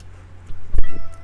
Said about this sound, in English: She's just gonna meow the whole time.